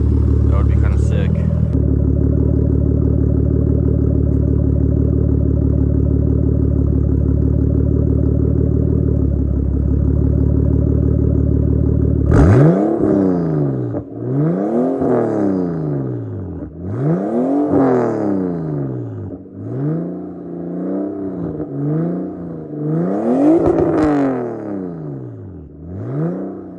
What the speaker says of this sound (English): Let me see if I can put you guys down maybe so you guys can hear the exhaust real fast